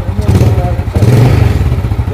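Yamaha Jupiter Z underbone motorcycle engine idling steadily with a loud, rough low-frequency drone and clattering mechanical knock, fitted with an aftermarket exhaust, close by, with a voice speaking over it.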